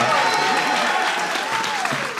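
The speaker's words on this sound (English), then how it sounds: "Let's get a round of applause for that." Steady applause from an audience fills the whole moment, a dense even patter of clapping with a faint crowd murmur beneath.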